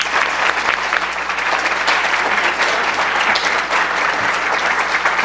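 An audience at a candidates' election forum breaks into loud, sustained applause, dense clapping filling the room steadily throughout with no talking over it.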